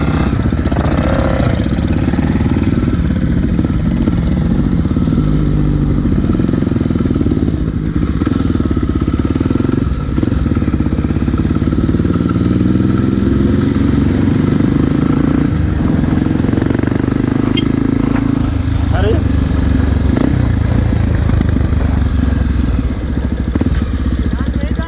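Several motorcycles idle close by in a steady, rumbling drone with occasional revs and clatter, while a group of men chat over the engines.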